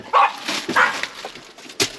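A dog named Mr. Griffey barks and yips in short sharp bursts, a few close barks spaced across the moment inside a truck cab setting, with quiet gaps between.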